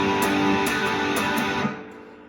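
Electric guitar strumming a full bar chord on the bottom five strings for the riff, a few bright rhythmic strums that ring and then fade, no voice.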